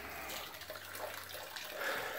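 Water pumped through the cooling pipes of a Volvo Penta 2003 marine engine without turbo, a steady close gushing and splashing flow that continues throughout the short stretch.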